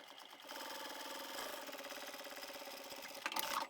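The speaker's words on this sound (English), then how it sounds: "I'm just sewing along the edge of the fabric at 1/4 inch." A sewing machine runs in a steady, continuous whir as it stitches along the edge of fabric pieces for a lined crossbody bag, close and alone, ending with a brief louder rattle.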